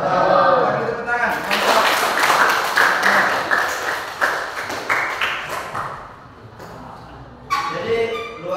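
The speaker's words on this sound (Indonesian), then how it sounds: "Bagi tepuk tangan." A group of students applauds in a classroom, a burst of clapping that swells then fades, with voices talking over parts of it.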